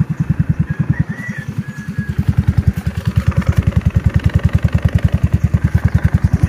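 A motorcycle engine idles steadily with a fast, even putter and a slight metallic clatter, close and fairly loud throughout.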